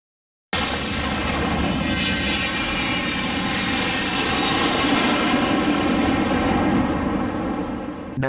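An airplane engine sets up a loud, steady roar that starts abruptly and holds unbroken throughout, with no talking.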